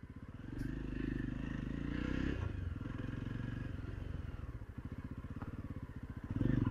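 2023 Jawa 42 motorcycle on the move, a close, pulsing engine thump that rises and falls with the throttle, plus a burst of revving at the end.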